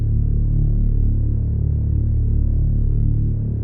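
Two layered synth basses in a Logic Pro X production, one clean and textured, the other harder and distorted, playing together as a thick, sustained low rumble with subtle rhythmic swells, loud and without any voices.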